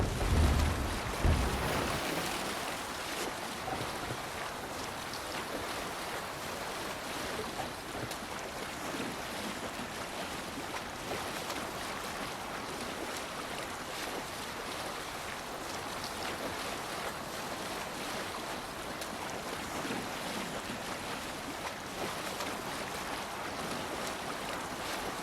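A Viking longship under sail at sea in Assassin's Creed Valhalla, with a steady wash of wind and waves rushing past the hull. A thump at the start gives way to a constant, fairly quiet roar throughout.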